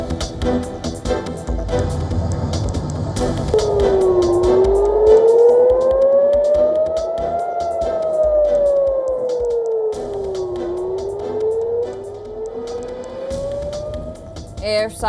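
Air raid sirens sound across Israel during an Iranian missile salvo: a loud, slowly rising and falling wail that sweeps up and down over several seconds, with faint background noise beneath it.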